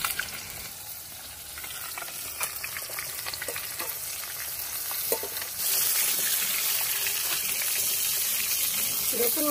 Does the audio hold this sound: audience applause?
no